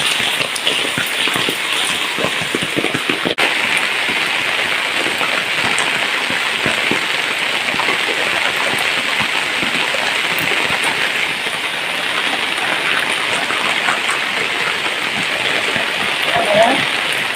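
Heavy monsoon rain pours steadily in a village, a dense, continuous hiss of drops falling on fields and surfaces, loud and unbroken throughout, with a brief sharp knock early on and a voice faintly talking beneath it.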